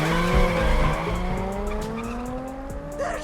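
Car tires squeal and skid on a road in a film scene, a loud sustained screech with rising and falling pitch over engine noise, nearby and continuous.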